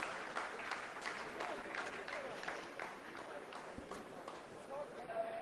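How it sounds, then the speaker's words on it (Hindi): Scientists in mission control applaud after a descent phase of the Chandrayaan-3 lunar landing, a faint, dense rattle of clapping that runs throughout beneath ongoing speech. "जी हाँ, आप इस तालियों के गड़गड़ाहट को सुन सकते हैं"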